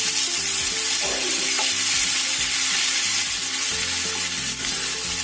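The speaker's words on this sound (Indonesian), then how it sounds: "ini aku akan tambahkan bumbu yang sudah diulek halus. Kita tumis sampai tercium bau enak." Finely ground spice paste stir-fries in a pan with loud, constant sizzling close up, joined by some low clatter from stirring.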